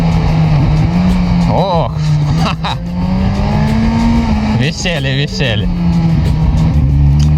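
A 2022 Kawasaki Z900 motorcycle engine drones loudly and steadily on a ride, with its pitch rising and falling as the throttle is worked and a couple of brief louder bursts, while someone speaks briefly over it.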